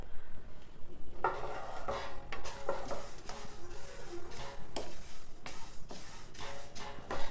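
Laddu ingredients dry-roasting in a pan over slow heat while a spoon stirs them, making repeated scraping and rustling strokes with a light sizzle and occasional metallic taps, close and moderately quiet.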